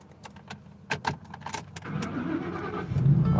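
A scrap metal truck starts up: keys jingle briefly, then the engine cranks, catches and settles into a rising, rumbling idle heard close by.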